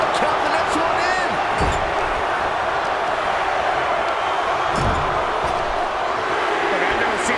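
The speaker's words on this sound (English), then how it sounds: "Listen to this crowd count the next one in." A packed wrestling arena crowd in the WWE 2K24 video game roars and chants along in a count, a dense continuous wall of crowd noise with faint thuds underneath.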